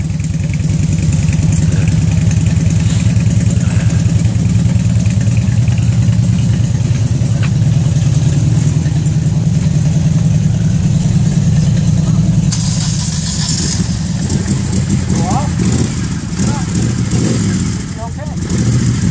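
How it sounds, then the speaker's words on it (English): Several motorcycles idle and rev close by after rain, engines rumbling steadily throughout before a shift as they pull away, with people talking faintly underneath. "some of our more brave individuals are going to take their motorcycles out for a ride"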